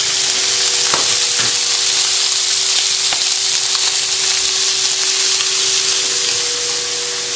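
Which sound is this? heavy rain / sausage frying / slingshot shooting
sausage frying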